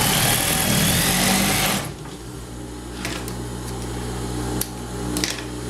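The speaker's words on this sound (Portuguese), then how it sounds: "Agora sim eu posso passar uma costura dando uma distância de um pé de máquina" Sewing machine stitching a bag lining beside a zipper, a steady fast mechanical whir running loud for about two seconds, then stopping and leaving quiet room hum with a few small clicks.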